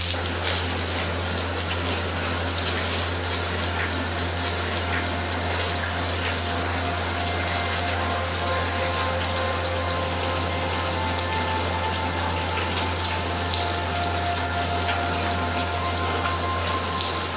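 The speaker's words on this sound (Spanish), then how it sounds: "A través de las paredes y del techo se filtra agua, a veces en goteras y otras en chorros." Water seeps and gushes through the walls and ceiling of the old La Merced tunnels in Argentina, a steady broadband rush and trickle filling the space continuously at close range, with a low constant hum beneath it.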